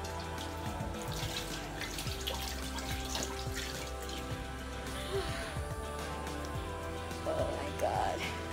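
Hands being washed under a running tap: a steady, quiet hiss of flowing water with faint splashes and dripping, close but soft, with some background noise.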